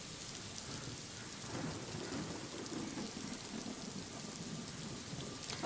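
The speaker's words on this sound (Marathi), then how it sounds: "मुंबईमध्ये मागच्या 2 ते 3 दिवसापासून सलग मुसळधार असा पाऊस पडतो आहे" Steady, heavy monsoon rainfall in Mumbai hisses continuously at a fairly low level, with no voices or other distinct sounds.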